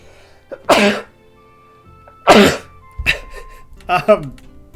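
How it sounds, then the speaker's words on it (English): A few sharp, breathy bursts, a sneeze followed by short coughs or throat noises, loud and close with brief pauses between them. "I have to sneeze"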